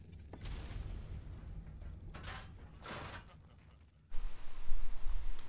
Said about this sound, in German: Was explodiert hier die ganze Zeit?